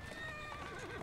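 Horse in Assassin's Creed Syndicate gives a quick, faint whinny over steady game ambience, with wavering tonal pitch sweeps lasting about a second and no speech over it.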